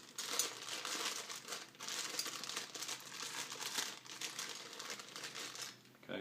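Plastic and cardboard packaging of a Makita RT0700C router trimmer crinkles and rustles steadily up close for several seconds, with small taps and handling noises and one brief pause partway through.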